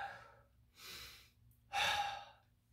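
Heavy, labored breathing after a set of burpees: a few loud panting breaths and gasps with pauses between, close to the mic and alone, without speech.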